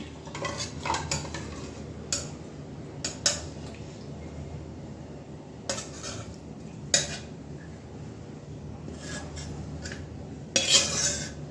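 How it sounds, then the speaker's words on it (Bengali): A spoon scrapes and clinks against a pan and bowl while fish and teasel gourd curry is served out. Sharp metallic taps come at irregular intervals over a soft background hiss, with a louder clatter near the end. "এবার তরকারিটা বাটিতে ঢেলে নিই"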